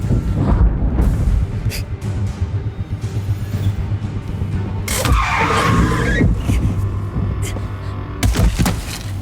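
Car engine drone and a tyre skid from a handbrake turn in the horror video game The Quarry, loud and steady across the stretch with a brighter screech midway.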